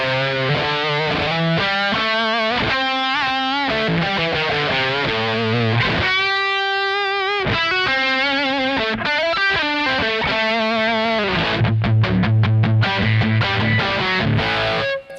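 Fuzz guitar through a Kemper Profiler with a 60s-style tone, heard as thick, buzzy distorted chords and sustained notes played alone, with a brief gap and some choppy strums toward the end.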